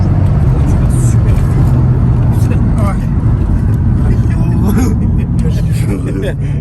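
A V8 car engine roars while driving fast, a loud, steady low drone heard from inside the cabin, with people talking over it.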